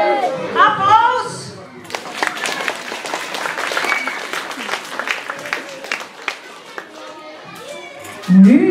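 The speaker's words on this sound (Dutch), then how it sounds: "Applaus!" Applause and cheering from an audience at a school show with young children, a sustained burst of clapping with children's voices and chatter mixed in, bracketed by brief speech.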